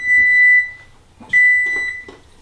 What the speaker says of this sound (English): And there goes my timer for my rice.